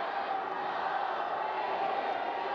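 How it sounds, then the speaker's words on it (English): A large arena crowd at a men's field hockey quarter-final between Argentina and New Zealand roars steadily in the distance, a dense, even wash of cheering voices with no breaks. "The crowd count down the final few seconds of this third quarter-final."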